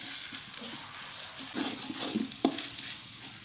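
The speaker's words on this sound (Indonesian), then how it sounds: "Kita tumis sampai aromanya harum." Spice paste for ayam rica-rica sautéing in a pan, a soft steady sizzle with a few stirring scrapes and clinks in the middle.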